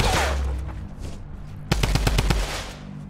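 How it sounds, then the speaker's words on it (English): Gunfire in Fortnite, a shotgun blast among rapid bursts: a loud sharp report near the middle is followed by a quick run of punchy shots over a steady low game rumble. "Oh, shotgun blast from that distance doesn't do anything."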